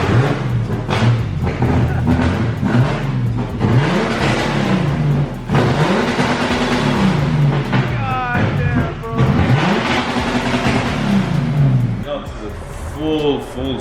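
A full stock engine in a drift car revs hard in repeated rising and falling pulls, loud and close, with people talking over it and a brief quieter stretch near the end.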